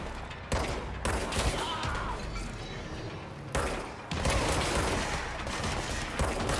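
Gunfire in the video game Control, bursts of sharp, loud shots crackling in dense volleys, broken by a few brief pauses, with a thud and mechanical clatter mixed in.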